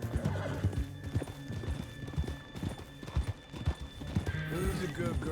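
A horse gallops in Red Dead Redemption 2, with rhythmic clip-clop hoofbeats throughout, a neigh near the end and voices talking over it.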